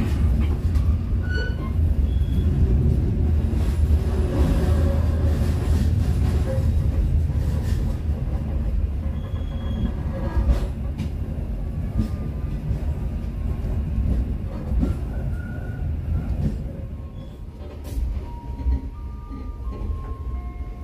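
A passenger train pulls out of Leles station bound for Cibatu, its steady low rumble filling the carriage at close range, with faint clinks over the wheel noise and no talk.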